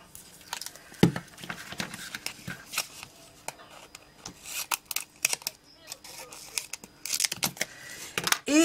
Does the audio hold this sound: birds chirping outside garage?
no